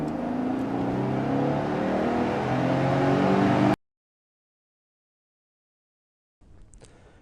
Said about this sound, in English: This is an aggressive, off-the-line start.